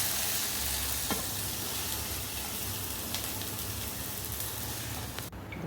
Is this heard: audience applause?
no